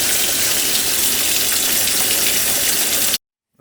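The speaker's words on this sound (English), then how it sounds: "now we're going to cool it down by putting our pressure cooker on the sink" Water from a tap pours steadily over a pressure cooker sitting in a sink to cool it, a loud, even gushing rush that stops abruptly near the end.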